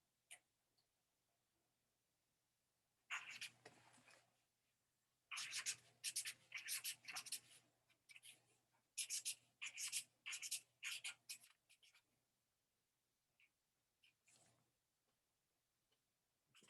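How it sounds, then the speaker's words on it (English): Pen scratching across paper in bursts of quick strokes with pauses between, close but faint in a quiet room. "I'm writing poorly right now"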